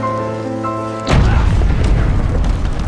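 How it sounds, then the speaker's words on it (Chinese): A barn blows up in a video game with a loud, sudden boom that cuts off a steady musical tone and then rumbles on as a long, dense roar. "怎么还爆炸了呢？"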